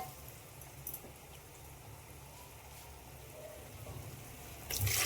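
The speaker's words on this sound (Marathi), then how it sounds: "त्याच्यात टाकूया आपण पाणी" A soft, steady rush of water poured into a cooking pot for spiced rice runs continuously, quiet and even, getting briefly louder right at the end.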